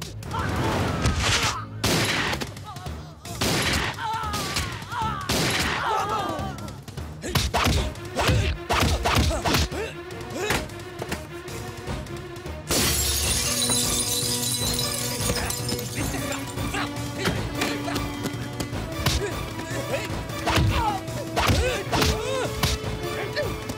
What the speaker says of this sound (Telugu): అక్కడ కాల్చు